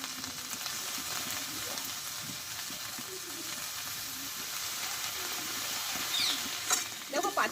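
A pea and potato curry, just dosed with lemon juice, simmers in the pan with a continuous soft sizzle; gentle stirring builds into a few sharper scrapes near the end.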